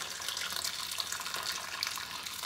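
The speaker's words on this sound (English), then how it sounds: "Then we add some hot water." Hot water poured into a pot of flour paste to cook sadza, a steady close trickle and splash running continuously without voices.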